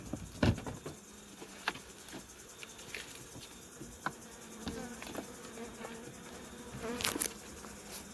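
Bees buzzing around the hives during an evening honey harvest, worked with a bee escape board. The buzzing is a faint, steady hum from several insects, with scattered soft taps and knocks and a short louder burst near the end.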